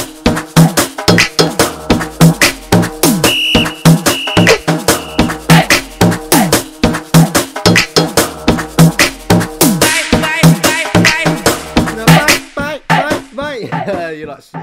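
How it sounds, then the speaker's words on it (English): Arab-style drill beat with a bouncy rhythm, layered chopped vocal samples and an ethnic melody over sliding 808 bass and rapid hi-hats, loud and continuous throughout before thinning out near the end. "it should sound like this with all the voxes and everything"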